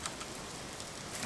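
Steady rain from the video game Jasei no In (The Serpent's Lust) fills the scene as a continuous, even hiss of falling water, moderately loud and unbroken, with no other sounds standing out.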